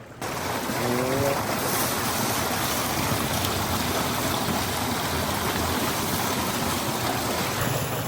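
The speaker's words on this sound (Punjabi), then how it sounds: "ਲੋ ਜੀ ਇੱਧਰ ਪਾਣੀ ਹੋ ਗਿਆ ਚਾਲੂ" Water from a tap gushes continuously to wash a cot, giving a loud, steady close rush that runs without a break for the whole stretch.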